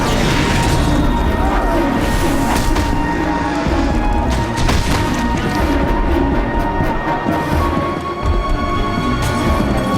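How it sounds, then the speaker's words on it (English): Magic missile spell cast in Neverwinter Nights, a loud dense wash of crackling bursts and booming impacts sustained for about ten seconds amid game effects. "Magic missile."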